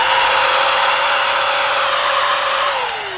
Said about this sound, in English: it's a tiny little vacuum.